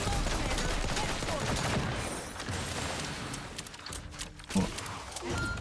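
Dense, continuous bursts of gunfire fill a firefight in The Outer Worlds 2, loud and steady throughout with a brief sharper impact near the end and scattered mechanical clatter beneath.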